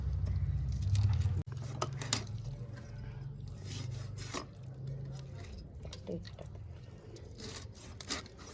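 Eel fish being cut up by hand, the blade scraping and rasping through flesh and bone in short uneven strokes, close by and moderately loud over a low background hum.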